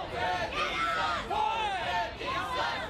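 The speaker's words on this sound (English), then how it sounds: "the crowd down here at the Bay City Brewing Company is vocal as always" A vocal crowd at the Bay City Brewing Company shouts and cheers in steady waves, a dense roar of many voices filling the room at close range.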